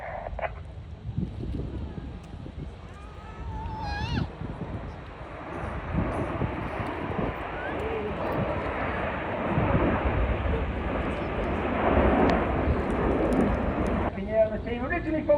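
Several jets flying in formation at the Wales Air Show, a steady broad roar sustained throughout with wind buffeting, while a commentator talks over it.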